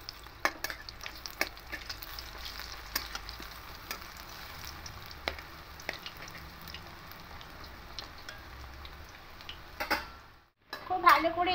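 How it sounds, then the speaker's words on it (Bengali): Fish roe fritters fry in hot oil, a continuous close sizzle dotted with sharp pops and crackles. A utensil clatters and a faint voice is heard near the end. "খুব ভালো করে এপিট ওপিট ভেজে নিচ্ছি।"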